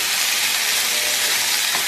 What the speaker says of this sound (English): There's the vegetables cooking.